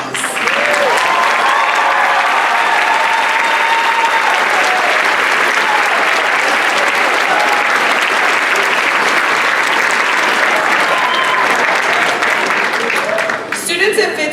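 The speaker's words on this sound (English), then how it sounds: "Members of the National Honor Society, please rise to be recognized by a round of applause." Large commencement audience applauds steadily for National Honor Society members rising to be recognized, a dense, sustained wash of clapping with a few voices mixed in, fading near the end.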